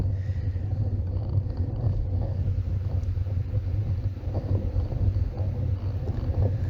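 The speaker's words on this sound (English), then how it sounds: "it just sounds so windy" Heavy wind buffets the microphone during a hill climb at Cwm Teigl, a constant low roar and rumble, gusting throughout with no voices.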